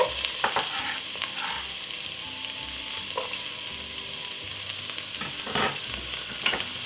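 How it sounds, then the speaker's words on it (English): White onion and garlic sautéing in a pot for Jamaican curry goat, a continuous hiss of frying broken by a few utensil knocks and stirring scrapes, close, with no one speaking. "next what we're gonna do is put in white onion and the garlic"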